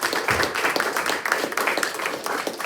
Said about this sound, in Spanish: vamos a darle otra vez un aplauso a Leo.